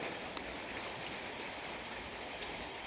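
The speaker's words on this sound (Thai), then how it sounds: "ท่ามกลางฝนตกนะครับ" Steady hiss of rain falling continuously, dense and even with no pauses, fairly close, with no voices.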